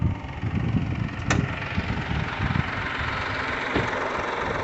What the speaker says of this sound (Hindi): दिखा देता हूं कि इसका इंजन कितना नॉइसी है।